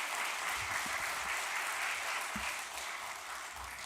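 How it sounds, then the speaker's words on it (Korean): Congregation applause in a church service fills the space with a steady, dense wash of clapping that holds evenly and fades slightly toward the end. "다시 한번 박수 한번 해주시죠"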